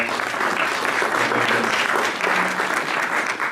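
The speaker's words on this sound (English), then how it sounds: "So let's give her a round of applause." A lecture-hall audience gives a steady, full round of applause, dense clapping sustained at an even loudness from start to finish with no voices over it.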